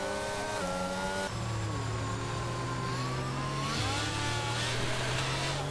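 Race cars circle the Hungary circuit behind an Aston Martin safety car in a racing video game, steady engine drones with shifting pitch as they rev and change gear, fairly faint and continuous.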